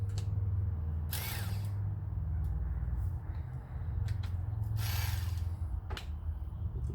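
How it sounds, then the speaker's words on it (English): An electric fillet knife saws through carp bones with a loud, continuous motor buzz. The drone holds steady for several seconds, with brief harsher grinding bursts as the blades bite. "we're gonna see if we can get this old fillet knife to cut through these bones here"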